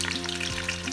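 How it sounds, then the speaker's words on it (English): Raw snails frying in a pan over medium heat, a steady close sizzle with faint crackle running evenly throughout the short moment. "So I dropped in all the snails in there, and we're going to allow it to fry on both sides"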